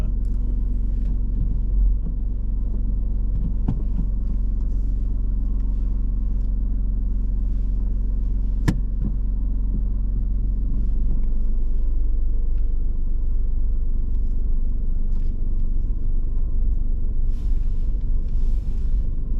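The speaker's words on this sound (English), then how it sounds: "I'd like to reverse back 2 car lengths now, please" A learner driver's car reverses slowly along a kerb during a mock driving test, giving a steady low engine rumble and road noise with no talk.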